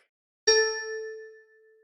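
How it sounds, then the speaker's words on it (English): A bell is struck once, a bright metallic strike that rings out clearly and fades slowly in the quiet afterward, with no talking. "I'll hit a bell"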